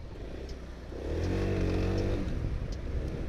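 A Quadro QV3 350 three-wheel scooter pulls away with the throttle opened, its engine note swelling into a loud, steady rising drone after a quieter idle in the first second.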